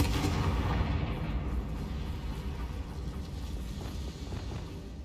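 Fiery Confringo spell blasts cast in a mine during Hogwarts Legacy, a dense, sustained rumble of booming bursts that rolls on steadily for several seconds without any voices.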